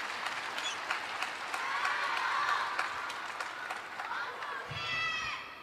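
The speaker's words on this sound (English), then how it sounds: "You can hear the crowd still shouting his name" A large table tennis arena crowd roars and shouts a player's name continuously in the distance, with applause mixed in and a commentator's voice running over it.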